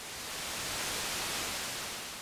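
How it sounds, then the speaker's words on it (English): Steady broadband white noise, a flat even hiss with equal energy across the spectrum, continuous and loud throughout with no other sounds. "white noise, the most common, has an equal amount of energy for every 100 or 1000 Hz"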